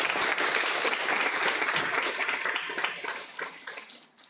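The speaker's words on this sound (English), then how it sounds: "Maybe we can have a round of applause for them" An audience at a 2023 university freshmen welcome event applauds the student mentor team, dense steady clapping from many hands filling the room, tapering off toward the end.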